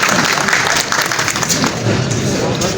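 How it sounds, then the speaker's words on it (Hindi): Audience applause at an oath-taking ceremony of a traders' association in Kohati Bazaar, dense sustained clapping from a large crowd, loud and continuous with faint voices mixed underneath. "बहुत सारी तालियां"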